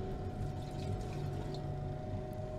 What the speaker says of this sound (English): I'm going to add some distilled water